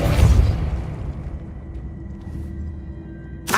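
A Depulso force spell from Hogwarts Legacy hits with a heavy booming burst. A low rumble follows and fades, then a second sharp burst comes at the end.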